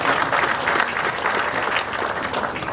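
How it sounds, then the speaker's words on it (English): Audience at a groundbreaking ceremony for a new Nxtra data centre applauds a speaker, steady dense clapping close by for nearly three seconds. "You may clap for him"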